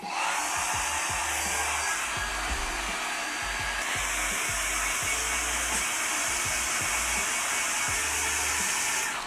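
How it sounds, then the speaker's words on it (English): A hair dryer blows with a loud, steady roaring hiss, running continuously throughout, drying paint on a miniature jet fighter model. "Right, hair dryer."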